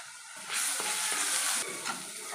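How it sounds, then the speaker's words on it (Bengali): Garlic paste sizzles in a pan over lightly fried onions, rising into a loud, close fry with scraping stirs and short pauses, and no talking. "রসুনটা একটু হালকা করে ভেজে নিয়েছি।"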